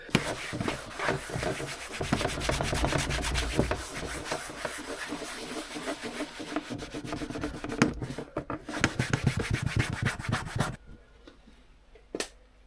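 Cotton rag rubbing tyre dressing onto an old Land Rover tyre, a steady run of close, rough scrubbing strokes that carries on without a pause before cutting to near quiet at the end.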